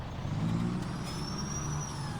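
Ford truck engine in the farming video game Farming Simulator 2017, a steady low diesel drone with a slight rise and a thin whine above it, continuous and fairly loud, with no talking.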